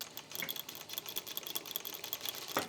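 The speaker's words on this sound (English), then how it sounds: "put the needle beside the edge of the cardboard strip and then stitch along this edge" A Juki industrial sewing machine stitches along the edge of a cardboard strip, producing a quiet, rapid ticking rattle with a brief louder clack near the end.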